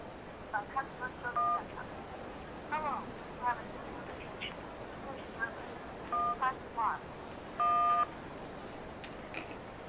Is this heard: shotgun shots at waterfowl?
no